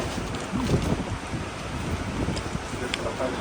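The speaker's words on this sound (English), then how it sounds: "Very windy." Steady, blustery wind buffets the microphone at a seaside restaurant in Saranda, Albania, a constant low roar with gusts, faint voices murmuring underneath.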